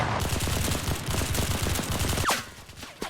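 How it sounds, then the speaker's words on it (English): Rapid, sustained automatic fire from an AK-103 rifle in the Enlisted video game, a dense unbroken burst of shots that runs nearly the whole time, then stops near the end with a short trailing sound. "The rate of fire on this AK-103 is ridiculous."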